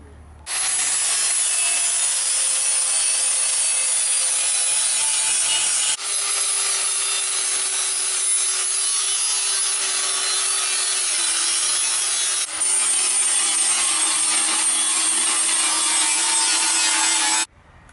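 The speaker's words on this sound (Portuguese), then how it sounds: "eu vou passar a lixadeira agora, porque essa peça tem muita oxidação, muita sujeira" A power sander grinds steadily over a rusty, dirty Kombi part for about seventeen seconds, a loud, continuous abrasive rasp with two brief shifts in pitch and no talking.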